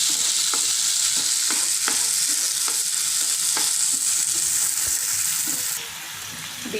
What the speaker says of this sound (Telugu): టమాటా సాసు, చిల్లీ సాస్ వేసుకొని బాగా కలుపుకోవాలి.